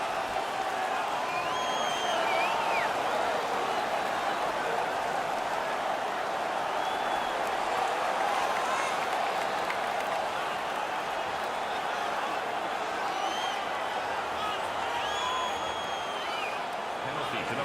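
A home crowd in an NHL 19 hockey arena roars steadily, a dense, continuous wash of cheering and noise that stays loud throughout without breaks.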